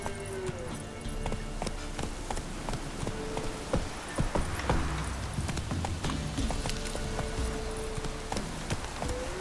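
Roach, a horse in the video game The Witcher 3, gallops with quick, continuous clip-clop hoofbeats over a busy background of ambient noise.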